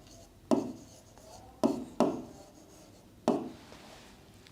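Chalk or marker strokes on a board while a question is written out, four sharp separate scrapes spaced over a few seconds, close and fairly quiet with no voice.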